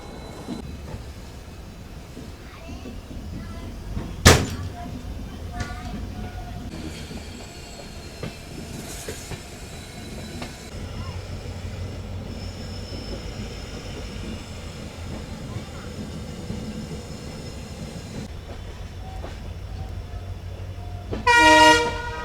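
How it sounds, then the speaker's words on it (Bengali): The 15777 Alipurduar Tourist Express rolls along with a steady rumble and wheel clatter, broken by a sharp horn toot early on, faint squeals, and a louder burst of horn near the end. "একদিকে আমাদের ট্রেন ছুটছে"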